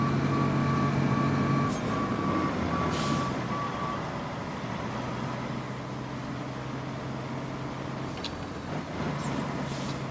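A dump truck backing up in RoadCraft, with a steady series of evenly spaced reversing beeps over a continuous low engine drone, plus a few brief hissing bursts like air brakes.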